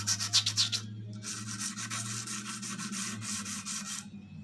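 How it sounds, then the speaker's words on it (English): An old knife blade is sanded with oil and sandpaper, giving a steady, close abrasive rasp of back-and-forth strokes, with a brief pause near the start and another at the end. "We're just going to sand it."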